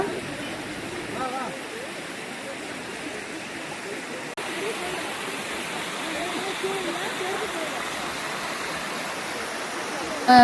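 Steady broadband rush of falling water, continuous and fairly even throughout, like a waterfall or fast stream heard from nearby.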